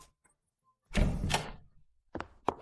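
A door opens indoors after a knock, with a broad rumbling thunk and rustle lasting about half a second, followed by a few sharp clicks or taps.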